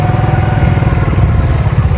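A motorcycle engine chugs loud and close with a rough, pulsing low rumble as the bike is eased slowly across a rain-flooded road.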